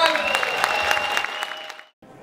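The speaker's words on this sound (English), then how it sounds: "Let's give him a big round of applause." A crowd at a fitness show taping claps for a celebrity photographer, brisk, bright applause with sharp individual claps that fades out toward the end, followed by a brief quieter stretch.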